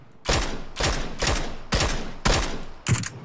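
Six evenly spaced single gunshots in PUBG, loud close cracks with deep booming decay, fired roughly half a second apart, the last slightly heavier.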